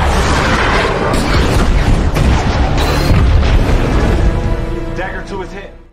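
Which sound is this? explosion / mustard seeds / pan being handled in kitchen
explosion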